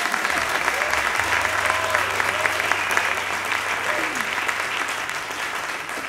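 Concert audience at Universidad Javeriana applauds arranger Juan Andrés Ospina, a steady wash of dense clapping from a large crowd lasting throughout, with a low sustained tone underneath.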